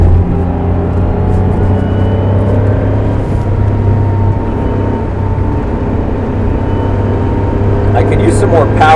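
Cabin sound from inside a Porsche 911 Carrera: a steady, droning engine note, loud and close, holds with little change as the driver talks over it.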